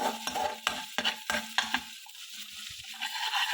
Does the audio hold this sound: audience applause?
no